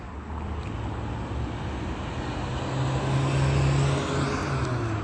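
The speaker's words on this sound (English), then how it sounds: "The plane engines over my head, audible activity." Airplane engines passing overhead in suburban Upland, a broad steady roar that swells slightly toward the end against a constant low background rumble, with no talking.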